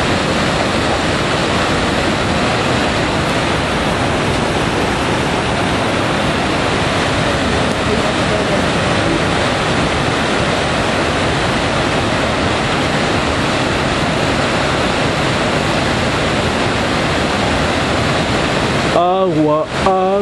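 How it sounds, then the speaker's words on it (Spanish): Rushing water of the Magdalena River at a narrow gorge in Huila, Colombia, roars as a steady, loud, broadband wash for the whole stretch, with a brief voice near the end. "Agua, agua, agua. ¿Es el río?"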